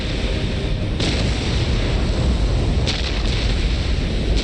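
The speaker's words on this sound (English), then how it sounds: "We will silence that Orc artillery." Ork artillery fires in a Dawn of War game cinematic as a dense, continuous rumble of booms with a few sharper blasts standing out, loud and with no talk.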